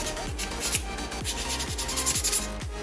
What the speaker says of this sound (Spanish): lo he tenido que hacer con una lija de agua P800 en este caso, pero bueno, como podéis ver es súper fina